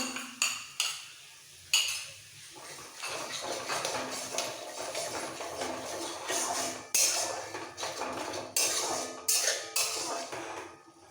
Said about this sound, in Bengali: এবার মশলাটা খুব ভালো করে কষাবো